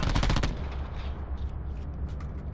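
The Annihilator gun fires in a shooter video game during a Hardpoint esports match, a quick close burst of sharp shots that rings off into a fading tail.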